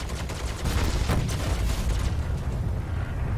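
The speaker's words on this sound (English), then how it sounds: "explosions everywhere" Dense, loud explosions and crackling blasts in the video game Star Citizen rumble continuously, one on top of another, with no voices.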